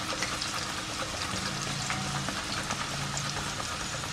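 Raw banana slices frying in hot oil for banana chips, a continuous dense sizzle with fine crackling bubbles and a low steady background hum, no voices.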